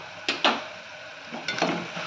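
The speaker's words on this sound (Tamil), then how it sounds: "உப்பு போட்டு தக்காளியை வதக்கினா தக்காளி வேகமாக வதங்கிடும்" Two quick bursts of spoon scraping and stirring in a pan, then two more, with a soft sizzle beneath as chopped tomatoes with salt are sautéed.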